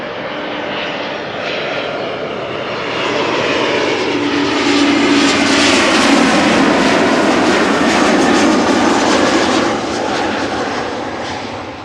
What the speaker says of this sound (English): a rare sighting, an Embraer 190